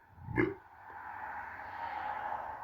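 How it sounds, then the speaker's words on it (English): A single short, low burp erupts from someone during a podcast recording, a brief guttural grunt-like belch followed by faint room tone. "That was a burp of approval, I reckon."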